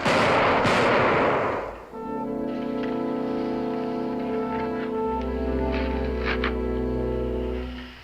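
A volley of rifle fire cracks out at once on a command, loud and dense for under two seconds, then a long musical tone takes over the rest of the clip.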